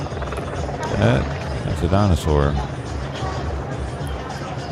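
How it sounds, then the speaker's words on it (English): A big helicopter passes overhead during a street protest, its steady rotor roar and low thudding filling the background while several people talk excitedly over it. "Oh man, this is a helicopter."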